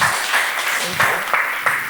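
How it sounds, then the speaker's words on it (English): Applause from an audience at an agricultural industrialization conference, a short burst of steady clapping at moderate level with a few louder claps. "A round of applause, please."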